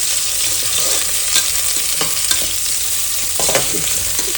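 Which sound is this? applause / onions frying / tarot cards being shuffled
onions frying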